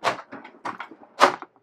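A drawer beneath a caravan kitchen bench slides and knocks as it opens or shuts, a handful of short clunks and rattles in quick succession, close and clear.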